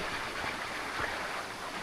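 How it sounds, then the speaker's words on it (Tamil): Water rushing steadily down a forest stream, a constant close wash of broadband splashing with no break and no voices. "தண்ணி எல்லாம் சூப்பராக வந்துட்டுருக்கு"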